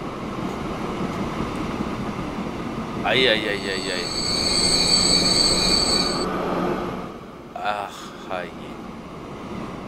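Freight trains rumble along the line in the Transport Fever video game, a steady rolling drone with a long high wheel squeal midway, while a man makes brief exclamations over it.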